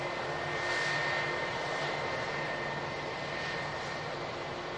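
Fixed-wing aircraft engine at Manchester Airport, a steady broadband roar holding evenly throughout with a faint high whine, moderately distant and continuous without talk.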